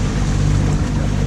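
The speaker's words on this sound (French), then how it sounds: "j'ai été obligé de mettre du moteur" A sailboat motoring under engine power near the end of a Mediterranean delivery passage to Port Leucate, giving a steady, loud low drone with constant water and hull wash running unbroken throughout.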